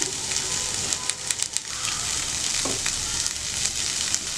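Vegetables for lettuce wraps sauté in a pan with a steady, close crackling sizzle, broken by a few soft stirring clicks, and no one talks.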